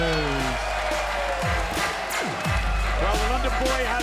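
Arena crowd at a boxing event applauding and cheering as the 27-year-old London fighter Joyce of the British Lionhearts enters, a steady roar of claps under an announcer's voice.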